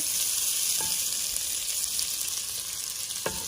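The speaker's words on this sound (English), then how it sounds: "I'm cooking that salt pork. A little bit of a grease on the bottom." Salt pork frying in a thin layer of grease gives a steady, close, hissing sizzle that fills the whole stretch, with a couple of faint clicks near the start and end.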